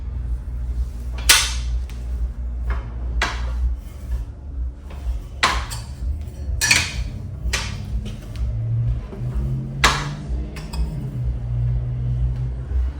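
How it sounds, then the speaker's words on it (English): A sheet metal brake sets and bends a half-inch flange on scrap steel for a weld cart, giving sharp, loud metallic clanks and bangs at irregular intervals over a low workshop hum. "I reset the flange brake to put a 1/2 inch flange."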